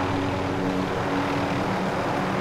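Loud, steady rotor and engine drone from a helicopter sitting close by in Call of Duty Warzone. The hum is continuous and unbroken, with no voices over it.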